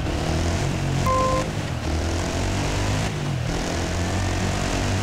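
A propeller airplane engine in the Dakar Desert Rally video game drones loud and steady throughout, with a brief tonal whine early on and no voices.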